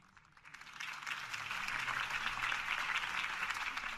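Applause from a large crowd in Batman: The Telltale Series swells in after a moment of quiet and holds steady as dense, continuous clapping at a moderate distance.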